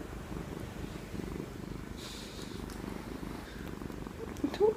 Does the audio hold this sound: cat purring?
yes